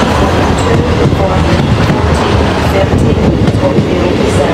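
A three-coach ScotRail train at Edinburgh Waverley station, a loud, close, continuous rumble of wheels and coaches with faint rhythmic rail clatter running throughout.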